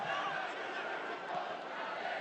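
Stadium crowd at a Tampa Bay Rowdies versus Charleston Battery soccer match gives a broad, distant swell of cheering and murmur, a steady wash of many voices with no single caller standing out.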